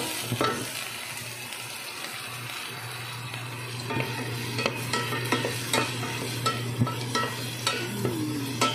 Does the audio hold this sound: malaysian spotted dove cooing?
no